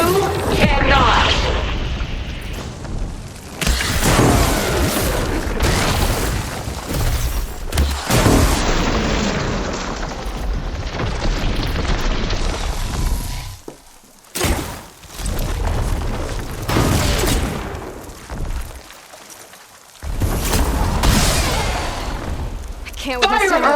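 A barrage of explosions in Horizon Forbidden West, heavy booms rolling one after another over a dense battle din, with brief lulls between waves and voices under it.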